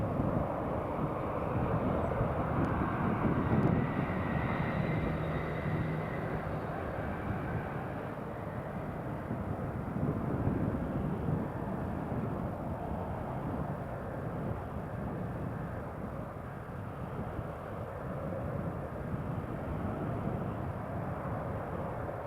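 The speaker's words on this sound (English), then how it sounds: "there's the Air France just taxiing." An Air France HOP Embraer E190 airliner taxis at Newcastle Airport, a steady low jet-engine rumble and broad roar that holds evenly throughout without speech.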